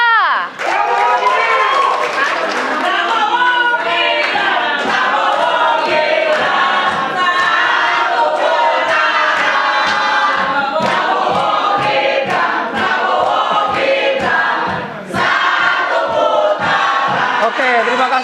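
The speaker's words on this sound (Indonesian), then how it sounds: "Oke, tepuk tangan." A crowd at a political debate event cheers and shouts in a dense, continuous roar, with sharp claps and bursts breaking through and a host's voice mixed in.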